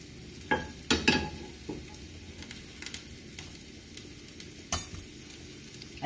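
A spoonful of lard melting in a hot pan for cooking beans, giving a soft steady sizzle with scattered crackles and pops, quiet and close, with no talk.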